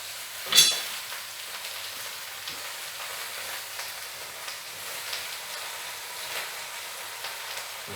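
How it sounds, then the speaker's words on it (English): A pot of vegetable stew with aubergine stirred with a spoon, a soft low sizzle and faint scraping throughout, with one brief clink near the start. "Just give it a stir about."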